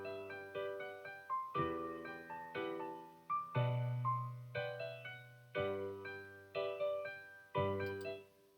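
Chopped synth chords in Logic X, each chord struck twice in quick succession over a deeper bass line, forming a steady looping progression with regular rhythmic attacks and no voices.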